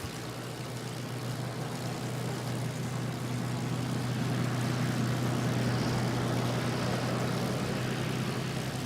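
Spitfire propeller aircraft engines at a Battle of Britain 75th anniversary gathering, a steady, loud droning roar with a low humming tone that holds throughout without a break.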